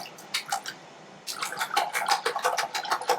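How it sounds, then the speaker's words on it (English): Eggs are whisked in a bowl. A short burst of quick rhythmic clicking and sloshing strokes stops briefly, then resumes faster and more steadily, close and fairly quiet. "you're just going to whisk them up."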